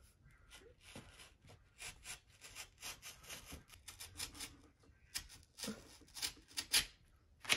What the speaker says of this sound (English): you want to put enough pressure that it cuts through both layers of wallpaper, but you don't want to cut the drywall